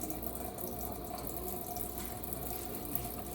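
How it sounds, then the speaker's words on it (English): A tap runs to rinse a cleaned crab, a steady, faint, hissing stream of water that carries on evenly throughout with no voices. "We're gonna just rinse it out quickly."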